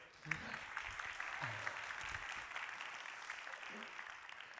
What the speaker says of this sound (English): Why don't we have another round of applause for Kevin, everybody?